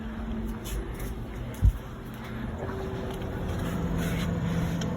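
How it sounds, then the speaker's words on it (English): An electric room fan runs with a steady low hum and a faint airy whoosh, close and constant throughout, with one brief thump partway through. "That's my other fan that you can hear."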